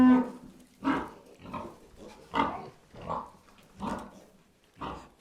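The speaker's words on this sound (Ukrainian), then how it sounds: "Ой, як свиня розсердилася." An angry pig on a small farm grunts and squeals in seven loud, evenly spaced bursts, close by and otherwise alone.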